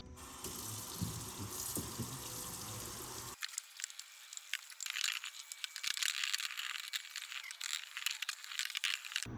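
Running water splashes steadily while a 3D printer build plate is washed under a tap, first a fuller low gush, then a thinner, brighter spray with small drips and clatters, close and continuous.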